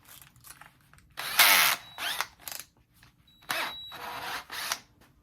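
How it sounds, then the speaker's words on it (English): A power drill spins a brass wire wheel in short bursts, whirring and scraping against a vintage sledgehammer head, with pauses between runs, close up. "And then I will put just a brass wire wheel in the head of a drill"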